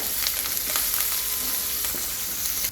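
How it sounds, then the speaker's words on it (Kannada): Garlic and curry leaves frying in hot oil for a dhaba-style tadka, a steady bright sizzle with faint stirring, close and continuous with no talking. "ಬೆಳ್ಳುಳ್ಳಿ ಹಾಕೋಬೇಕು, ಆಮೇಲೆ ಅಲ್ಲ, ಆಮೇಲೆ ಕರಿಬೇವು ಎಲ್ಲ ಹಾಕಿ ಫ್ರೈ ಮಾಡ್ಕೋಬೇಕು."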